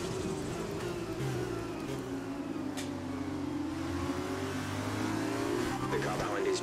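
Formula 2 race car engine in the F1 2020 racing game, Hungary feature race, held at a steady high drone while accelerating back up to racing speed, loud and continuous throughout with a speaker talking over it.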